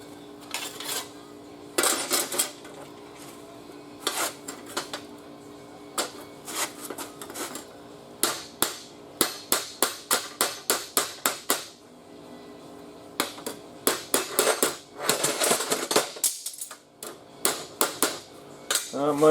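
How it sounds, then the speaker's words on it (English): Hammer striking sheet metal on a Triumph TR3, sharp metallic taps in irregular bursts, some fast and clustered, close and fairly loud with short pauses between runs. "You can hit that up with a hammer."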